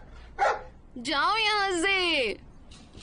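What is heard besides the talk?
dog barking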